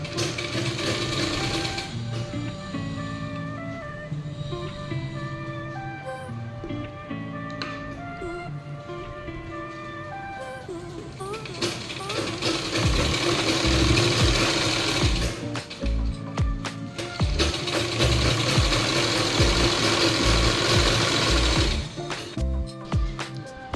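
A sewing machine stitches a cross patti blouse in close, loud runs of rapid mechanical clatter. The runs pause and restart, and the machine speeds up and gets louder in the second half. Nobody talks.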